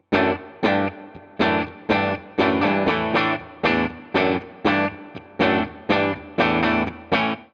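Electric guitar with a humbucker pickup plays rhythmic distorted chords in short repeated bursts with brief gaps, heavy low end and a reverb tail, loud and alone.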